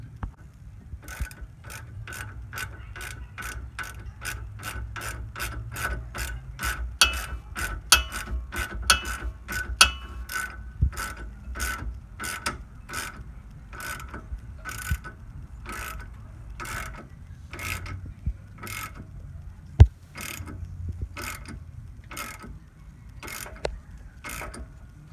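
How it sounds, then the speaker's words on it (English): A ratchet socket wrench tightening a sway bar link bolt during a sway bar repair, a long, steady run of sharp ratcheting clicks at an even pace, close and distinct, with no talking. "Once the bolt is in place, tighten with the 3/4 inch wrench"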